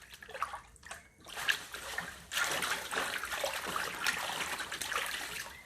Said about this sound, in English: I'm just going to add maybe 1/4 of a cup, 1/2 a cup of Epsom salt. Nothing major. No particular brand is necessary, and just kind of stir that up